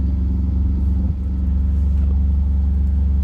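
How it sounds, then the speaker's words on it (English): A Lexus GT3 race car in a racing sim idles with a deep, heavy rumble, loud and close, holding a steady throbbing tone with a brief dip partway through. "the Lexus is the loudest car of the bunch"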